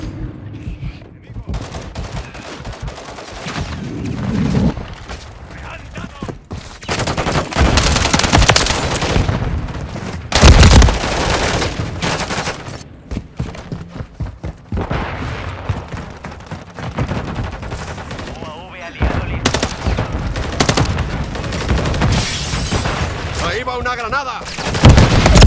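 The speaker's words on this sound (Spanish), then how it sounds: "¡Me están acribillando!" Dense gunfire from a Modern Warfare 3 team deathmatch on the Terminal map: loud, nearly continuous bursts of automatic rifle fire and heavy blasts over about 25 seconds, with short lulls and occasional voice callouts underneath.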